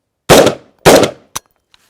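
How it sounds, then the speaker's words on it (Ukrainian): Two loud, sharp gunshots from a self-loading carbine crack about half a second apart, followed by a short metallic click and a faint tap in otherwise quiet surroundings. "Знімаємо із запобіжника, патрон в патроннику, прицілюємось, стріляємо."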